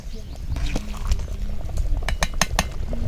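Chettinad mutton curry bubbling in a pot, with irregular pops and gurgles of boiling liquid and a few light utensil clicks, close and steady, a voice speaking faintly underneath.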